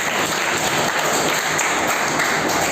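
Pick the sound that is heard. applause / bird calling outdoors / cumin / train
applause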